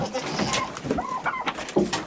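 Chickens cooing and clucking in short bursts, calls scattered close by with faint background noise, at a heated poultry waterer.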